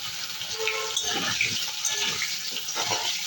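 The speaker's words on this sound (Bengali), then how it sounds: "এইবার দিয়ে দেবো ডুমো করে রাখা আলু।" Diced potatoes hitting hot oil with cumin seeds, a steady broadband sizzle and crackle that holds loud and even throughout with small pops scattered through it.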